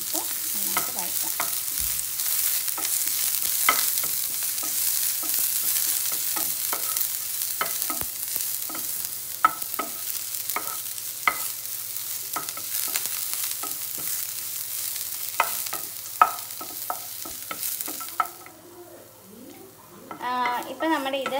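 Onions sizzle and fry in a pan for a chicken pizza, steady frying hiss broken by regular scraping stirs of a spoon, ending with quieter sizzling and a few bird chirps in the background.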